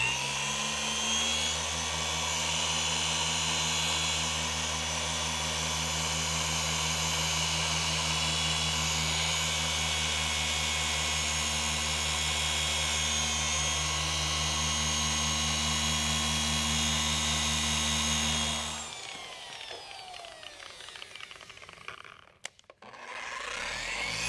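A 3-inch polisher loaded with cut compound drones steadily while polishing a Tesla Model 3 Highland's rear around the emblem area, running loud and close for about nineteen seconds before cutting off, leaving quiet handling noises.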